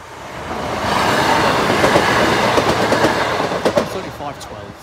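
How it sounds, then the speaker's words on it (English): A train rumbles past up close at a level crossing, its rolling noise swelling and then easing, with rhythmic clatter of wheels over the rails. "train approaching."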